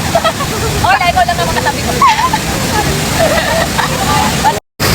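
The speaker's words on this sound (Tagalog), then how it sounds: "dito nga kami sa Taytay Falls" Rushing water from Taytay Falls pours steadily in the background while people chat and exclaim close by, their voices riding over the constant roar of the falls.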